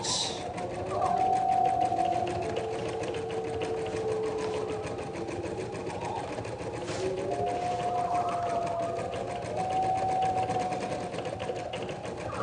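A sewing machine stitches through several layers of fabric, its fast, steady needle chatter running continuously at close range, with brief tonal hums from talk or background voices drifting underneath.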